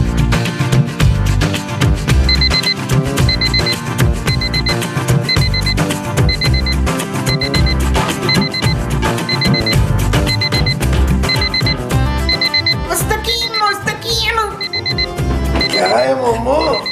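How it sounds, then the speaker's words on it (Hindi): An alarm clock rings in rapid repeated bursts of bright electronic beeps, mixed under dense music and background sound throughout. "मोमो, इसे अलार्म कहते हैं यार।"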